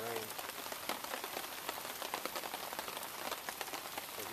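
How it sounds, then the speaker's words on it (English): Rain pattering steadily on a camp tarp over a small fire in the woods, a dense continuous hiss with scattered louder drops close by. "You hear the rain"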